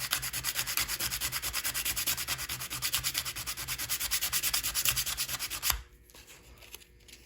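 Sandpaper rubbed back and forth across the rusty metal weight of an N scale model boxcar, making a steady, rhythmic rasping scrape at close range that stops abruptly near the end, leaving quiet.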